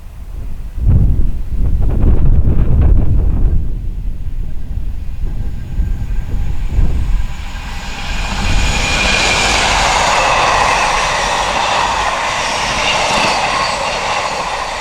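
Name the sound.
intermodal freight train passing at speed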